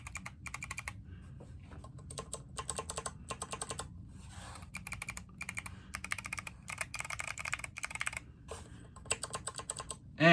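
Rapid, steady typing on a keyboard fitted with Zeal Clickiez switches, a clicky switch set against buckling spring, produces dense, close, crisp key clacks in continuous runs with a few brief pauses.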